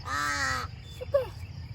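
A pet crow caws close by in one long harsh call, followed by a couple of shorter, fainter caws, out in a cattle-herding field.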